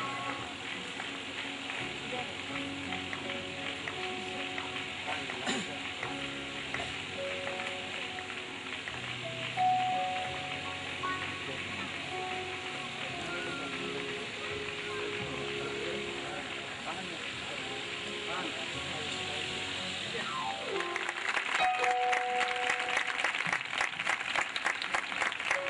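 Sustained applause from a graduation ceremony audience for graduate students, steady and continuous throughout, swelling a little louder near the end, with a voice speaking over it at times.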